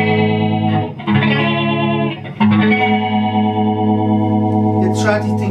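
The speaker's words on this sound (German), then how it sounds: "mache ich einen Chorus an." Sustained electric organ chords play through a chorus effect that has just been switched on, giving a thick, shimmering, slightly detuned tone. Short breaks come between the chords, and the sound is loud and close.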